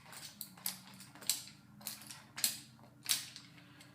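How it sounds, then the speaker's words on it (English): Sharp metallic clicks and clacks come from someone handling the gun filter of an airless paint sprayer, about six separate close knocks at irregular intervals over a quiet background. "Here we're checking our gun filter."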